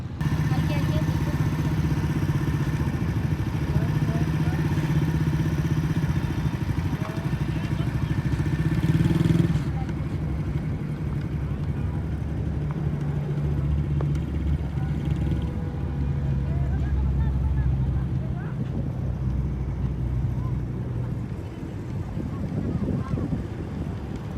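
A motorbike engine run at full throttle on a Karachi street, its steady loud drone continuing throughout and easing slightly after about ten seconds, with people talking over it.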